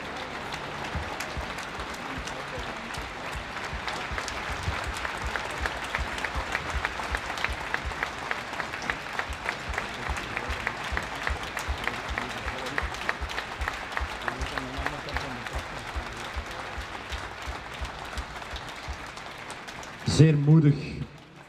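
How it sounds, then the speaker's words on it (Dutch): Outdoor crowd applause for the riders of a cycling team at a race start tribute, a long, even patter of many hands at moderate distance, a voice over a loudspeaker cutting in near the end. "Mag ik een hartverwarmend applaus voor de mannen van Fernandes Willems."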